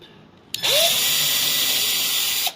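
A power drill with a small bit bores a quarter-inch pilot hole into wood for a farmhouse stove cover, one loud steady whirring burst of about two seconds, close up.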